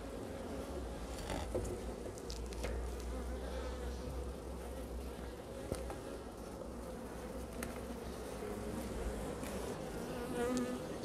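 Steady, dense buzzing of many honeybees close by at a hive, a continuous droning hum that holds even throughout with no voices.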